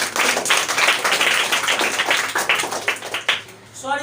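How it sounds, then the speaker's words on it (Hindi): Applause from a quiz show audience for a contestant who gave four answers, a dense burst of clapping that holds steady for a few seconds, then thins out and fades. "4 जवाब दिए, इनके लिए जोरदार ताली।"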